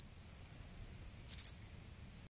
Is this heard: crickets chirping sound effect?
yes